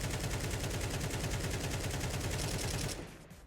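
An AK-47 fires in the video game Counter-Strike 2: a rapid, unbroken automatic burst of sharp, loud shots for about three seconds. The fire stops abruptly, leaving near silence.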